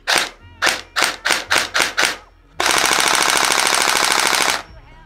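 A Cybergun SCAR-SC airsoft replica on an 11.1 battery fires loudly and close: about seven separate semi-automatic shots, a short pause, then a sharp, rapid full-auto burst lasting around two seconds.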